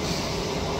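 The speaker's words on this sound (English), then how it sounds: "Well guys, I'm on the train now." Steady rumbling noise fills the inside of a moving train carriage, a continuous even roar with no voices.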